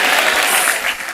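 Audience applause at a church service, a loud, continuous wash of clapping that fades a little toward the end, with no voices over it.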